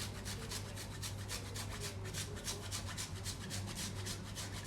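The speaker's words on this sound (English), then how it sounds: "And then we just want to grate in with the garlic, roughly about a teaspoon." Fresh garlic and ginger rasped against a kitchen grater in quick, even strokes, soft and close with no talking.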